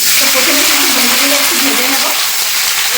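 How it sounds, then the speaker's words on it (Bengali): Fried okra is tipped into hot mustard oil in a wok, setting off a loud, dense, continuous sizzle that stays strong and close for the whole few seconds. "তেল গরম হয়ে গেছে এখন কেটে ভেজে রাখা ভেন্ডিগুলো দিয়ে দেবো"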